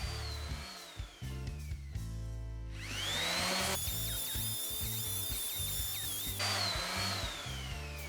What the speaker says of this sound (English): I'm using my disc sander just to sand this down even smoother, so there's no visible joint in the repair that I've done.